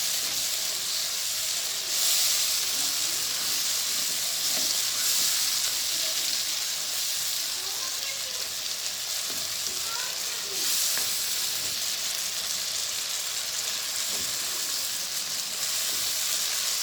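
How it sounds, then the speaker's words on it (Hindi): Tomatoes and green chillies frying in a pan for a Punjabi gobhi aloo sabzi, giving a steady, close hiss and sizzle that carries on without a break, with faint stirring now and then. "इनको अच्छी तरह से भून लेंगे।"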